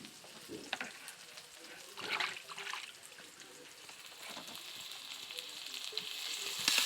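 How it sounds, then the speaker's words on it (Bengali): Onion, garlic and dried chillies fry in hot oil for a Bengali kochu shak dish, giving a steady close sizzle that grows slightly louder, with a few brief clinks and stirring scrapes and no talking. "তেলের ভিতরে পেঁয়াজ, রসুন এবং শুকনো মরিচ ভাজা হচ্ছে।"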